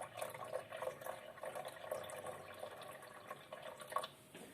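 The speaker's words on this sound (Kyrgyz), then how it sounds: "мен эми сууну аз-аздан куюп башташым керек" Water trickles little by little into laboratory apparatus during a food technology experiment, a faint, quiet pour with soft dripping and splashing and no voices.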